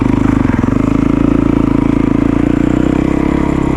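A Yamaha WR450 dirt bike's engine runs loud and close with a steady, throbbing pulse as it rides off, with some rattle and clatter, no talk.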